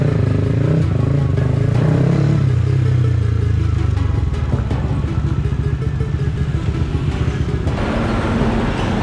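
A large-displacement motorcycle engine and exhaust idling close by, a loud rapid thumping pulse with a deep throaty drone early on that settles into a steady rattling idle, with faint talk nearby.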